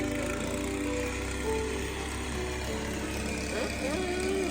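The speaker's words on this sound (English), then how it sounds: "Oh my god, this man have a snow blower." A snow blower runs outdoors during a Missouri snowstorm, a continuous engine drone with a steady low hum, heard from some distance under faint background sounds.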